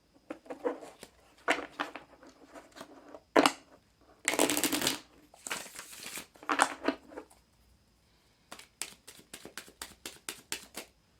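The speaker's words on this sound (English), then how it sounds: "So let's pull from your tarot and see what tarot has for you here." A deck of tarot cards being shuffled nearby. Several dense riffling bursts give way to a quick run of sharp, evenly spaced card snaps near the end, with no voices.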